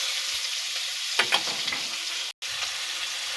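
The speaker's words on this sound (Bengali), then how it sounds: "আমি মাছগুলো ভালো করে ভাজবো।" Rohu fish pieces fry in mustard oil, a steady close sizzle with a few brief crackling bursts and a short gap near the end.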